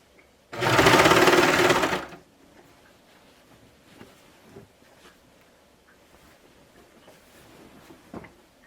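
A serger sewing machine runs in one steady, loud burst of about a second and a half while stitching a cardigan seam, then stops, leaving quiet room noise with faint handling clicks.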